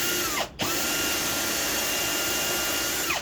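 Power drill driving screws into a woodworking project: a brief spin-down and restart, then a steady close, loud whirring run that winds down at the end.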